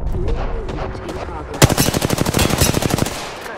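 Automatic gunfire in a shooter video game, a fast, even burst of loud shots lasting over a second, following a stretch of quieter game background and scattered sounds.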